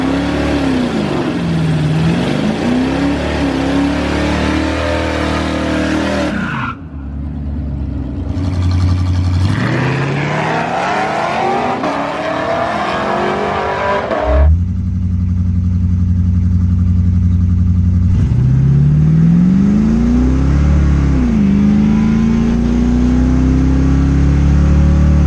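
A C4 Corvette lapping a race track, its engine loud and close, revving up and down through the gears with rising and falling pitch, brief lifts and shifts between sustained full-throttle pulls.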